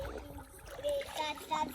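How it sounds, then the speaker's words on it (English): A small child splashing while swimming in water on a sunny family outing, with short bursts of splashing mixed with a voice and an adult talking close by. "Oh, you splashed your face."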